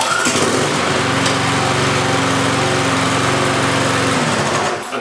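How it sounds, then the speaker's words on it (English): A Wiebang petrol lawn mower engine starts and runs, a steady, loud, high-pitched buzzing drone close by that holds for several seconds before cutting off near the end. "Okay, so now we're in a position where you can actually start the lawnmower."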